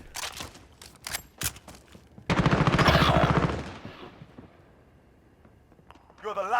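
Rifle gunfire in the video game Gun Fight: several sharp single shots, then a dense burst of rapid automatic fire lasting about a second and a half that fades out, with brief voice chat at the end.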